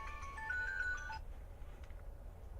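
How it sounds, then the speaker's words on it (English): A telephone ringing in a home, with a melodic electronic ringtone of several tones that plays for about a second and then stops. Low room noise continues after it. "the phone is ringing"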